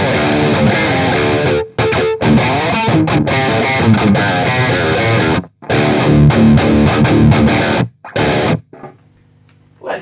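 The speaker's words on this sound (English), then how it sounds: "Let's not play high gain tones on the green channel, green crunch channel on the Peavey C505, please." Distorted, high-gain electric guitar played through the green crunch channel of a Peavey C505 amplifier, loud and continuous with brief dropouts between phrases and a quieter tail at the end.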